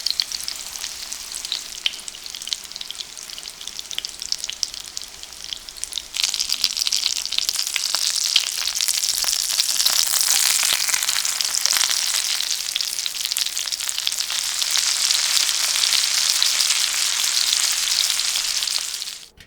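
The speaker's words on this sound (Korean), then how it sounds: "기름을 넉넉히 두르고 중약불로 앞뒤로 노릇노릇하게 튀겨줍니다." Breadcrumb-coated stuffed cabbage fries in plenty of oil over medium-low heat, giving a continuous bright sizzle and crackle that grows louder and denser partway through and then holds steady. Soft stirring or turning noises sit under the frying.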